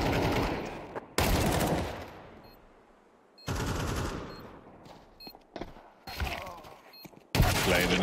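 Counter-Strike 2 gunfire during a pro HEROIC vs Rebels match, a rifle held on full auto: several loud sustained bursts separated by short pauses, with sharper isolated shots and clatter in between.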